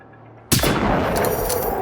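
A single loud gunshot in the video game Generation Zero blasts suddenly after a quiet moment, followed by a long booming echo that rolls on and slowly fades.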